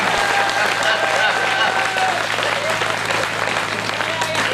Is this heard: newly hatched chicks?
no